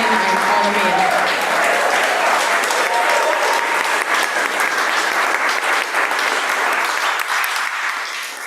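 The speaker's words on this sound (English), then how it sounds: "could we get a final round of applause for our three readers tonight" Sustained applause from an audience at a poetry reading during a winter festival, a dense, lively clatter of many hands clapping. It starts under a fading voice, then carries on steadily and tapers slightly at the end.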